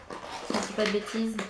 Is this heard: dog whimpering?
yes